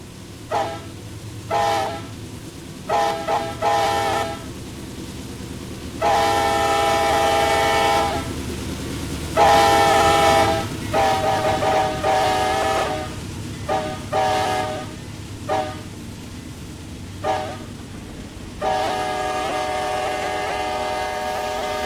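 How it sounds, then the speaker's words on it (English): Huge freight train in a Roblox railway game, rumbling continuously while the horn blasts repeatedly in long and short bursts, loud and close, with rail clatter between blasts. "we have this humongous freight train to get over to a yard that won't even fit it"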